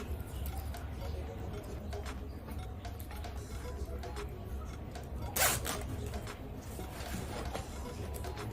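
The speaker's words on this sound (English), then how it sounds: "And now we are going to zip this." A zipper is pulled along an Ankara fabric tote bag during sewing, a short bright rasp around the middle of a steady background hum, fairly close but soft, with no talking.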